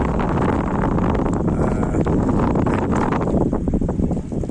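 Wind sweeping along the bank of the Jamuna river after a storm, a steady, loud rush buffeting the microphone with gusty swells throughout, no voices.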